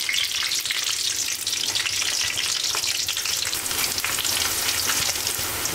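Green cardamom, cloves, bay leaves and fried onions crackle in hot oil, making a loud, busy, continuous sizzle with dense popping that runs unbroken and close.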